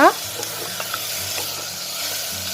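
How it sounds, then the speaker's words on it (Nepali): Onion, tomato and ground spices sizzle and crackle steadily in a hot pan, with a brief scraping stir at the start. "अब यसलाई हामीले मजाले भुट्नुपर्छ"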